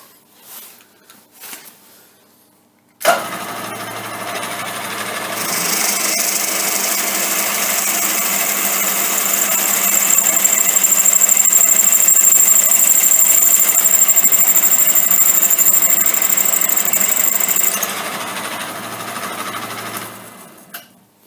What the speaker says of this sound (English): drilling the clearance size holes for the screws through the bearing housing here